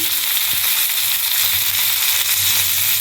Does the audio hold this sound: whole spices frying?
yes